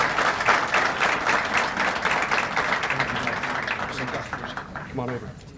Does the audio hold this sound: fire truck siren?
no